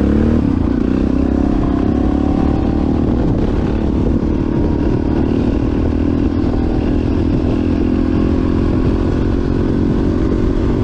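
Honda XR650 dirt bike engine roaring steadily through a wheelie, loud and close for about eleven seconds, with a rough, sustained drone and some clattering.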